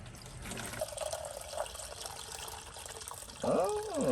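Water Wetter and distilled water coolant being poured slowly from a jug into a newly installed radiator, a soft continuous trickle with a brief gurgling glug near the end.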